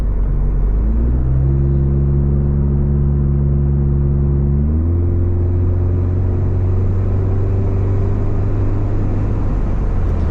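A 2024 Subaru Impreza RS with a Remark axle-back exhaust accelerates up close, its loud, deep engine drone climbing steadily in pitch, settling briefly, then rising again with no talking.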